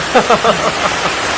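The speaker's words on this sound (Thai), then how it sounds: "ก็ไม่ได้ยินแต่เสียงฝนเฮ" Heavy rain pours down in a steady, loud, broadband hiss across the whole moment, while a voice briefly speaks a few syllables near the start.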